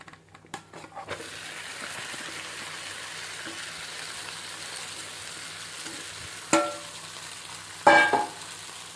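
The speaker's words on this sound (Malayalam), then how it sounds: "ഇതിലേക്ക് തന്നെ നാരങ്ങ ഇട്ട് കൊടുക്കാം." Lime pieces for lime pickle go into a hot pan, a steady sizzle of frying running throughout with a couple of sharper clattering bursts near the end, no talking.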